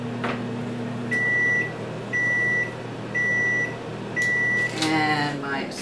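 Kitchen timer going off near the stove while cooking asparagus, four evenly spaced sharp electronic beeps about a second apart over a low appliance hum, with a brief voice and clatter at the end.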